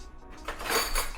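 A metal spoon scrapes and clinks against a crab shell while scooping out salted egg, a few soft close scratchy contacts rising in the second half of the brief moment.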